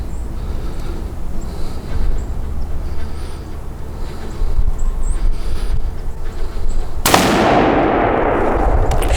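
A hunting rifle fires once at a whitetail deer on a late-season hunt, a single loud, sharp blast breaking a quiet outdoor stretch near the end and trailing off in a long echoing roll.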